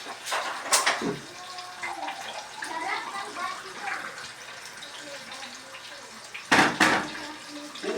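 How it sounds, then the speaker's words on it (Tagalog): Lukewarm water is poured into a container in a home kitchen, a splashing stream with sharper bursts near the start and again toward the end, with a faint voice in the background. "Kukuha muna tayo ng maligam-gam."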